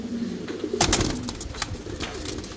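Pigeons cooing inside a cage, soft low coos repeating close by with a brief burst of wing flutter or rustling partway through.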